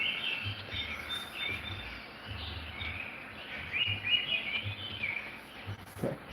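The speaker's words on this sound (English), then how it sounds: "Tropical birds" Tropical birds chirping and calling steadily on a screensaver's scenery track, bright overlapping tweets over a soft continuous background with no music.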